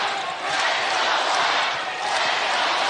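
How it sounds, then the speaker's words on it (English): A large crowd chants loudly and continuously at a Drake versus Iowa NCAA women's basketball game, a dense roar filling the arena without pause. "Crowd chants loud, "Let's go Drake.""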